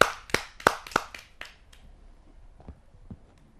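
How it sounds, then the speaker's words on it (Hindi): A few sharp, distinct claps ring out at a Hindi poetry gathering to welcome a poet, about six quick strikes that trail off into quiet with a couple of faint later claps, fairly close and sparse. "आइए जोरदार तालियों से उसका स्वागत करते हैं।"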